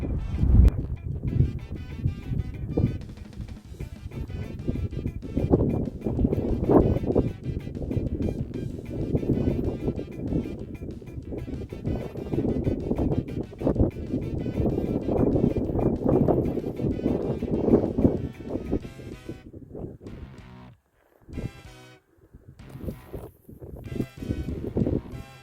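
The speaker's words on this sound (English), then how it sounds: "It's windy, but it is nice." Gusty wind blows steadily outdoors beside a small creek in a mountain meadow, a loud, rough buffeting that runs nearly the whole time before easing into quieter lulls near the end.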